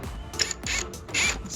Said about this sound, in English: I took the top screws out first. I'll take this one out next.